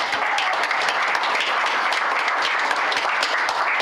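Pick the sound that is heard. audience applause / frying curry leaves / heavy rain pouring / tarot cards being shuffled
audience applause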